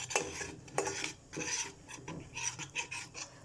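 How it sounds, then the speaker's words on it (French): A mixture stirred off the heat with a utensil in a pan, irregular scraping and clinking strokes against the metal, close and fairly quiet. "Vous mélangez bien."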